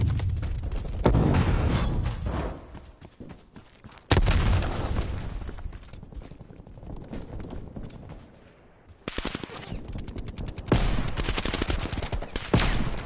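Video-game gunfire exchanged at long range: dense, heavy volleys of shots that swell and fade in waves, with quieter stretches between loud bursts and a boom mixed in.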